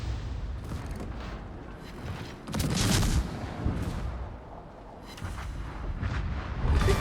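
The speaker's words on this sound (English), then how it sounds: "He takes another good salvo there." Naval guns fire a salvo in a warship video game, heavy rumbling booms rolling over a constant low battle din, with a louder burst near the middle and more swelling thunder toward the end.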